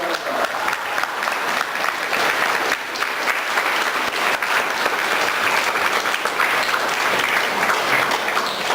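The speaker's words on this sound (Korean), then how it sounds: "모두 일어나서 승을 맞이 저는 박수를 쳐주시기" A Catholic church congregation applauds as a priest enters to mark his ordination anniversary, a loud, steady wash of clapping that fills the room without pause.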